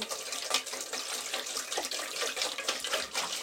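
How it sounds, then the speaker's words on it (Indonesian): Water pours out of a bottle in a steady, splashing stream that continues throughout, close to the microphone and unbroken by speech. "Kita buang dulu airnya nih ya"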